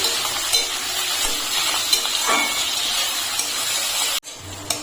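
Chopped onion and crushed garlic fry in a pan for a home-style mutton dish, giving a steady, fairly loud sizzle with faint stirring scrapes that stops abruptly near the end.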